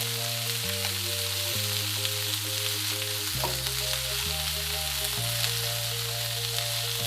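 Brussels sprouts fry in a seasoned pan with a steady close sizzle. A sustained musical hum plays underneath.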